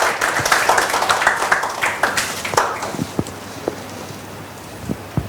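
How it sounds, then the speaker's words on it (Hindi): An audience at an officers' felicitation ceremony claps, a busy patter of many hands that thins out into scattered separate claps over a few seconds. "प्लीज फिर से तालियां"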